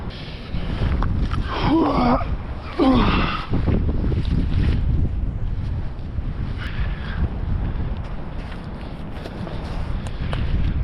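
Steady wind and engine rumble of a boat crossing water on Tasmania's remote south coast, with gusts buffeting the microphone throughout.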